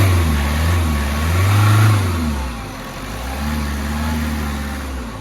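A 2015 Toyota Etios VXD diesel car engine revs up and settles twice, a nearby rising and falling engine drone with no talking.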